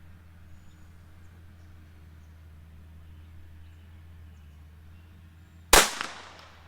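A single sharp gunshot from a Taurus TX22 .22 pistol cracks loudly near the end, after several seconds of quiet low hum, followed by a brief ringing decay.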